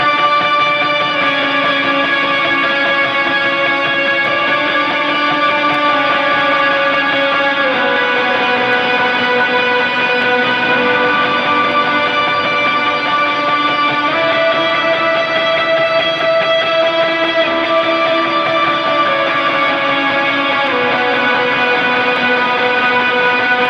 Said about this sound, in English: This might get messy because there's so much reverb.